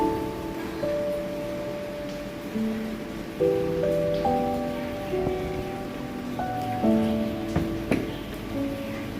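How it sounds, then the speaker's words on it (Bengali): Light, steady drizzle patters on a street, with a few tonal street sounds and distant horns drifting through the wet background. "রাস্তায় খুবই হালকা গুড়ি গুড়ি বৃষ্টি"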